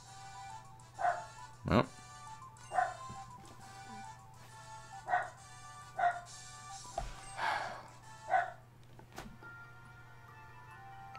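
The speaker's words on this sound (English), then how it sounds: "Still barking. Still barking." Dogs bark in a series of separate, fairly distant woofs over a steady low hum, with a brief exclamation from a nearby voice.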